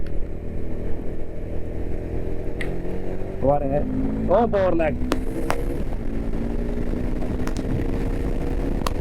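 A steady engine drone hums underneath as a Bajaj Dominar 400 motorcycle cruises, rising slightly in pitch, with someone speaking briefly over it.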